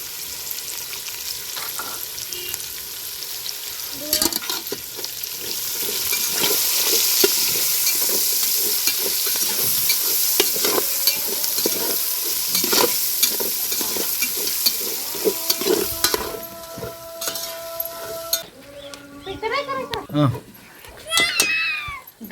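Kasuri methi with home-crushed ginger and garlic sizzles loudly in a pan for paneer pulao, stirred with frequent scraping knocks. Toward the end a cat meows several times nearby over the frying.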